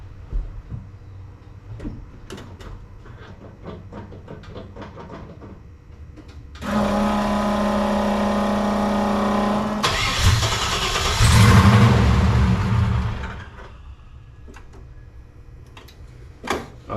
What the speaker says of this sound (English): Let's crank it up over and see